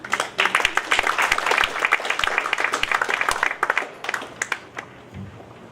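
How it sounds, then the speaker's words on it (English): An audience applauds at a multi-skills academy global conferment ceremony, a dense burst of clapping that gradually thins out and fades near the end. "So should we not give him a round of applause?"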